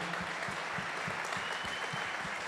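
A church congregation applauds steadily at a pastor's twentieth-anniversary tribute, a dense continuous wash of many hands clapping with no break and no voices above it.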